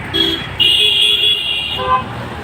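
Cars and other vehicles travel a poorly built road in Chandrapada, Maharashtra, and several horn toots ring out, one short and then a longer sustained blast, over continuous nearby traffic rumble.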